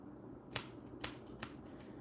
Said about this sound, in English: I'm just going to cut the shorter ones off